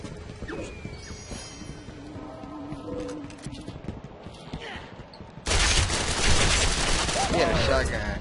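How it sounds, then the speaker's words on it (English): Gunfire bursts in Gotham City Impostors video game, scattered shots early on, then a loud dense barrage of blasts filling the final few seconds. "Try to shotgun blast me?"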